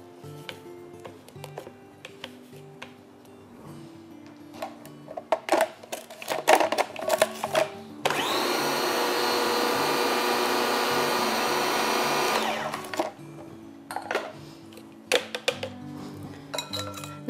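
A food processor whizzes a shortbread-style cookie dough mixture in a loud, steady burst of about four seconds, with clinks and clatters of kitchen utensils before and after.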